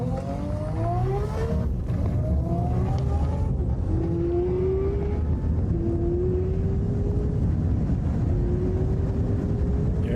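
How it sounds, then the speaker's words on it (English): An 1800 horsepower Toyota Supra drag racing a Tesla Plaid: a loud, continuous roar with engine pitch sweeping upward again and again through the gears, over steady wind rush. "An 1800 horsepower Supra versus a Tesla Plaid"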